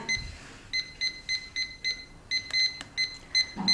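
Short electronic beeps repeat in a steady rhythm from a compact self-leveling cross line laser level while it moves, paired high-pitched chirps about every quarter second, fairly close and clear over a quiet background.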